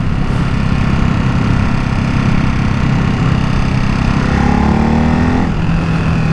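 Ducati Hypermotard 698 Mono single-cylinder motorcycle engine while riding, a steady loud droning hum with a slight pitch rise toward the end, constant throughout with no voices.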